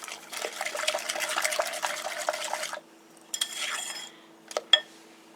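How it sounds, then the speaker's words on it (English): Caramel pecan pie filling whisked in a bowl, with quick, rhythmic metallic clinks and a wet stirring scrape for a few seconds, then a pause and a couple of sharp taps against the rim. No one talks. "we're just going to go ahead and whisk this all together."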